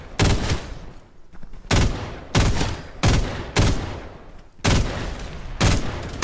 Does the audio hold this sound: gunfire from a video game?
yes